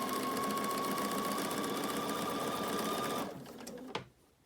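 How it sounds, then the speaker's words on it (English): A sewing machine stitches a face mask seam in a rapid, steady whirring run close by, then stops abruptly, followed by a brief click and quiet. "And I'm going to sew past this seam."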